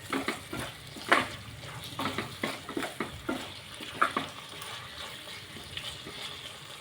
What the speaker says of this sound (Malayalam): 1 ടീസ്പൂൺ ഇട്ട് നമുക്കിതൊന്ന് നന്നായിട്ട് മിക്സ് ചെയ്യാം